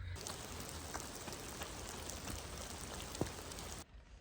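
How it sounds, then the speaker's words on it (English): Sleet and rain fall outdoors on a gray, slushy 34-degree day, making a dense, steady hiss with scattered sharper ticks of drops landing nearby, constant throughout before cutting out abruptly. "It's sleeting."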